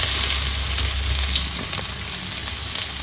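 Two medium onions frying in ginger-garlic paste in a pan, a loud, dense sizzle and crackle heard up close and without pause for the whole stretch.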